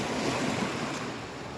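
Waves surge and wash on Diguisit beach in a continuous broad roar, with wind buffeting the microphone and no voices.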